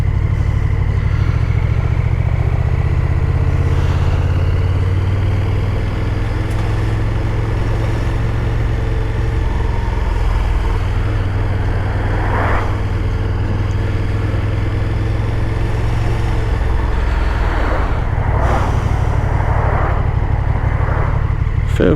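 A KTM 1290 Super Duke R motorcycle rides through sunny Sunday traffic, its engine a constant loud drone with occasional revving swells, heard alone without speech.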